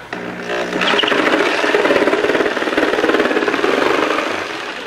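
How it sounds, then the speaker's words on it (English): Scroll saw cutting a hole through the wall of an insulated plastic cooler, a steady loud buzzing drone that runs continuously for several seconds after a brief start-up. "now we've got the scroll saw set in"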